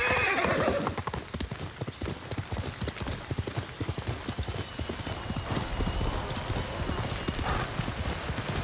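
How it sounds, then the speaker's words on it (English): Hoofbeats of a galloping horse in the Ghost of Tsushima video game, a rapid steady clatter throughout with a loud whinny near the start, all fairly close. "maybe I don't want to take the horse down there"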